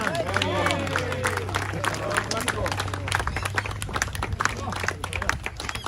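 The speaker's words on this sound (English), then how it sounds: "Round of applause to Tom." A small crowd claps in a round of applause at an outdoor protest in Sydney's Inner West, steady scattered clapping mixed with voices talking over it and a low constant hum.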